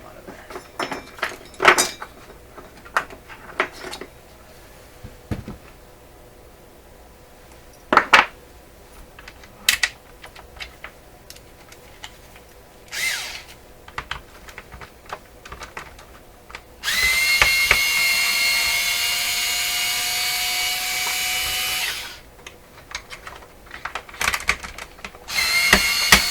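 Corner screws are backed out of the case of a Panasonic PSB/FM/AM three-band radio, heard as scattered close clicks and small scraping taps and a sustained whirring tool run of about five seconds partway through.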